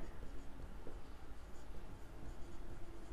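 Pen scratching across paper while working a financial planning math problem, faint and continuous against steady room hiss, with no talk.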